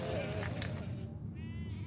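A sheep bleats with wavering calls over a steady low rumble, a second higher bleat following near the end.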